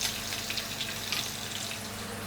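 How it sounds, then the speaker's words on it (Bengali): Whole spices (bay leaves, cinnamon, cardamom, black pepper and cloves) sautéing in hot oil for a chicken dish, giving a steady soft sizzle and crackle with faint scattered pops, no voices. "এটা আমি একটু ভালো করে সটে করে নেব।"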